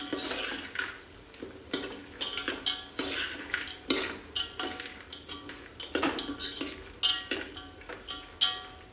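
Peanuts and chopped onion sauté in a pan for batata poha while a metal spoon stirs them, giving repeated clinks and scrapes against the pan in an uneven rhythm over a soft background hiss.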